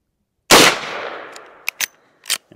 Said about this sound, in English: the 158 grain Federal jacketed soft point out of the 24-inch 1892 rifle